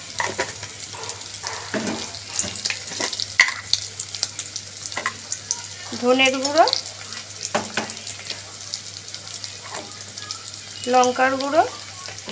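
Onion, ginger, garlic, tomato and ground spices sizzle and crackle steadily in a pan for an Indian egg and potato kofta curry, with stirring scrapes throughout and someone talking over the frying.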